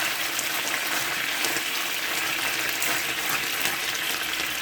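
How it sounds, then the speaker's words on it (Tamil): Honey chicken with soy sauce is stirred in a hot pan, giving a continuous, dense, close sizzle with soft scraping movement and no talking. "நல்லா கிண்டி விட்டுக்கலாம்."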